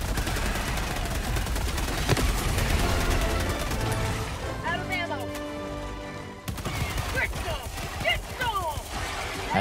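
An automated turret in the Helldivers 2 video game fires dense rapid bursts, breaks off briefly, then resumes with scattered shots and impacts, loud amid battle noise.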